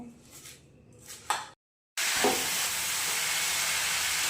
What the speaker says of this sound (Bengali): এরকম করে খুন্তি দিয়ে চেপে চেপে চেপে চেপে নাড়াচাড়া দিতে হবে